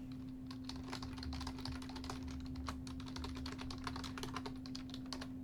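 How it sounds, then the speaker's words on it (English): Close, steady clatter of keys on a computer keyboard as an email address is typed, with irregular quick keystrokes over a low constant hum. "I'll type in an email address."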